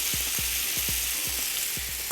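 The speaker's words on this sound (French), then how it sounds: "On va mettre les pâtes à revenir au beurre" Fregola pasta sautéing in butter in a hot pan, a steady loud sizzle broken by several quick low scrapes of stirring at an uneven rhythm.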